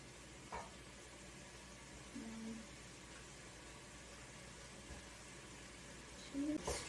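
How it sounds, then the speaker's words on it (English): Tempeh and tomato paste sautéing in a pan give off a faint, steady sizzle, with a few soft clinks and scrapes of stirring near the start and again at the end. "Let it saute for about 1 minute so that the tomato paste loses its acidity a little bit."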